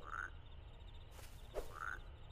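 Frog croaks in a video game, two short bright calls repeated about two seconds apart against a low background hum, with a soft rushing sound between them.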